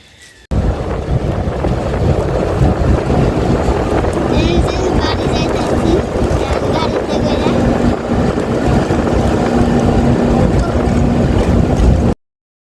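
A boat moving across water, its steady hum buried under heavy wind buffeting, with voices talking faintly in the background.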